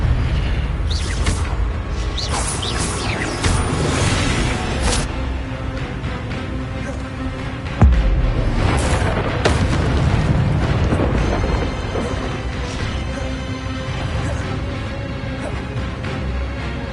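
Spells cast in Hogwarts Legacy, a steady run of whooshing magical bursts and booms over dense game sound, with one sharp impact near the middle.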